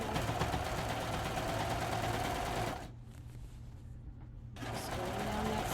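A serger runs along a seam on shirt fabric, a steady close mechanical whirring that stops briefly midway and then resumes, with no voices over it.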